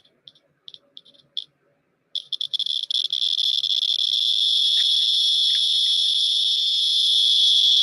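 A radiation detector in pin diode mode gives a few sharp chirps, then rises into a continuous high, shrill buzzing crackle that holds steady and loud.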